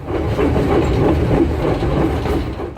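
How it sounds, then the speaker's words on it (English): White Pass and Yukon Route narrow gauge train rolling near Skagway, Alaska: a steady, loud rumble of wheels and cars with soft rhythmic clatter, continuous and close with no voices. "We jumped onto the White Pass and Yukon Route Railway in Skagway."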